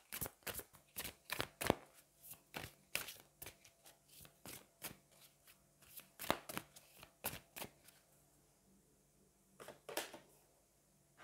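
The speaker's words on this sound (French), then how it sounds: "on va aller prendre une carte du Magic of You" Oracle cards from the Magic of You deck being shuffled up close, a rapid series of crisp riffling snaps and slaps in uneven bursts with a short pause near the end, no talking.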